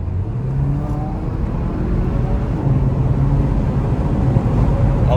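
A 2020 Porsche Macan with a 2-litre four-cylinder engine pulls hard in boost mode, its low engine note swelling steadily louder under a broad roar of road and wind noise from inside the cabin.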